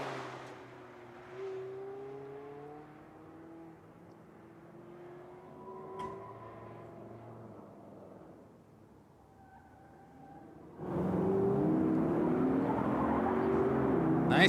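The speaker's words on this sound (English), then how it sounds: "We have Nader in his 2019 Mazda MX-5." A 2019 Mazda MX-5 in prep class runs an autocross course at Lake Elsinore, California. Its engine note rises and falls faintly in the distance, then swells into a loud, close, broad roar near the end.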